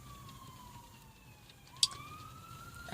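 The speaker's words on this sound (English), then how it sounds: "I hear a siren and it just makes me super paranoid" A siren passes outside at a distance, its faint wailing tone sliding down and then rising again, with a brief sharp click partway through and no talking.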